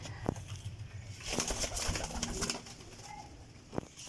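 Pigeons coo and murmur close by, with occasional wing flaps and a brief sharp knock, in a busy outdoor setting.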